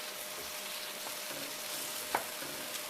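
Creole pork chops simmer in NOLA red gravy, a steady soft sizzle and bubble filling the pan, with one faint clink of a utensil partway through.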